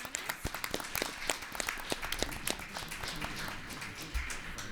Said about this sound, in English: please join us in a nice round of applause